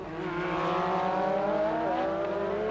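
Formula 1 cars from the 1986 season race at Jerez, a loud continuous high-pitched engine wail with rising and falling pitch as they brake and accelerate, close and sustained without voices.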